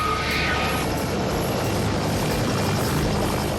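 Rescue helicopter Helibed 1 flying out to find a boat adrift at sea, its rotor and engine roar a steady, loud, close drone with no break.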